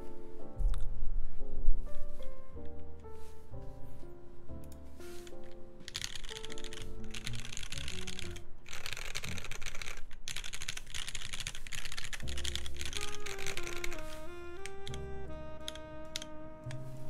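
A custom camo Filco mechanical keyboard is typed on steadily for about seventeen seconds, its dense, clacky keystrokes coming in quick bursts with short pauses, close and clear.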